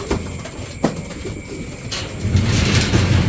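Racing pigeons being loaded into a basket, with soft cooing and brief flutters close by over a steady background rumble that grows louder toward the end.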